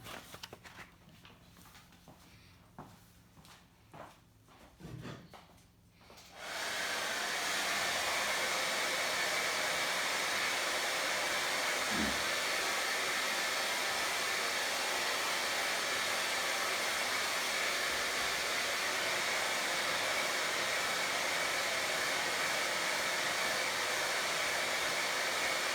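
A hair dryer dries a watercolour painting, starting after some light handling sounds and then blowing loud and steady at close range for the rest of the time.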